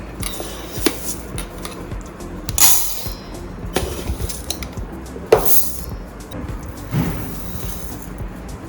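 Idli rice measured with a cup and poured into a metal vessel, a few clattering clinks and rustling pours spaced apart against a quiet kitchen background.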